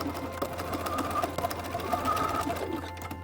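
A sewing machine runs steadily, understitching fabric right beside a seam line, with a continuous close mechanical whir and rapid needle ticking throughout.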